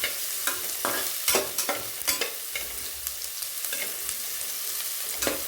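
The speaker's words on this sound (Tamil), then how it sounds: "இங்கே பட்டை நல்லா வதக்கணும்." Cinnamon sticks frying in oil for tomato rice, a steady close sizzle with repeated scraping and knocking of a stirring spoon against the pan at irregular intervals.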